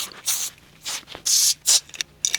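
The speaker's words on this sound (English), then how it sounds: "then I'm gonna go in with the spray as well" Several short hissing bursts of aerosol hair spray, close up, in quick uneven pulses with brief pauses between them.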